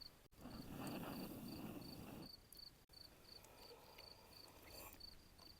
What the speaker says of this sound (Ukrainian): Цвіркуни цвіркочуть